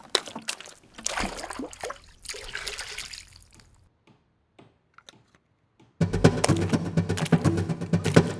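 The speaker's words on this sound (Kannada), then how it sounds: "ಶಾಂತಿ, ಇದಕ್ಕೊಂಚು ನೀರು ಹಾಕು." Water poured by hand in a home kitchen, an uneven trickle and splash in bursts, then a pause, followed by a louder, busier stretch of splashing and clatter.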